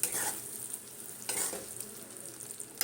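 A spoon stirs a spiced sweet-and-sour star fruit pickle in a pan with soft scraping strokes and a faint sizzle, two heavier swirls standing out among quieter mixing.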